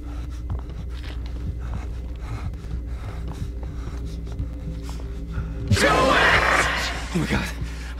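A woman's shriek in the horror game Blair Witch erupts abruptly after a stretch of murmuring background and ambience. The scream is loud, harsh and lasts about a second before trailing off.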